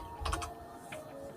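Several quick, soft keystrokes on a computer keyboard, a brief cluster of clicks followed by one more tap, close and fairly quiet against faint room noise.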